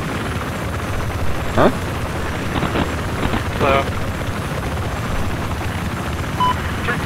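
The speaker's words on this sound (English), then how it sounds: "And not anger the enemy chopper." Enemy helicopter in the video game Battlefield 4, its rotor drone a steady background hum beneath player voice chat and game effects.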